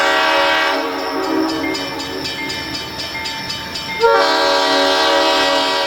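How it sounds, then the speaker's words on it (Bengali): A train horn blares in a long sustained tone, briefly shifting pitch partway through, over the steady rumble of a moving train. "আবার ট্রেনটা হর্ন দিল"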